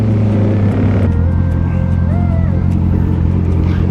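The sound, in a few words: road traffic heard while riding a motorcycle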